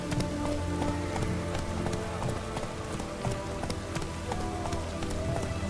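Steady rain patters across the whole stretch in The Witcher 3: Wild Hunt, mixed with rhythmic hoofbeats of a horse moving along, with a faint voice now and then.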